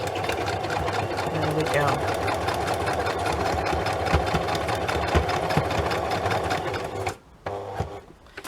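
A sewing machine back stitching a pocket into a junk journal runs loudly and steadily for several seconds, then stops briefly; a voice speaks over it.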